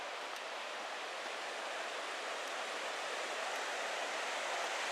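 River rushing through Johnston Canyon in Banff National Park, a steady broadband roar of flowing water, soft and even throughout with no voices.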